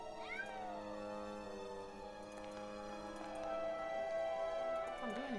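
Several cats in the video game Grim Fandango meow and yowl in rising and falling wails, overlapping and fairly faint against a steady game music background.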